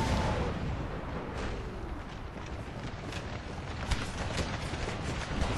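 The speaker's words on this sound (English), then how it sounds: "we're gonna refocus this artillery to fire canister on them" Artillery firing canister shot in Napoleon: Total War sounds as a low, rumbling battlefield din with scattered dull booms and pops, fairly faint and continuous throughout.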